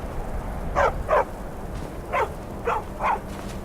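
A wolf or dog in the video game Skyrim gives five short barks in two uneven groups, moderately loud over a low steady background hum, with no speech.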